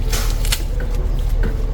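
A knife chops green onions on a cutting board during kitchen prep, giving a few scattered, close taps and scrapes over a low background hum, with no talking.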